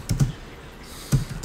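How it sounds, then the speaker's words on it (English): Typing on a computer keyboard: two short clusters of quick key clicks, close and fairly crisp, separated by a near-silent pause. "I don't know why I'm typing, because I can't type"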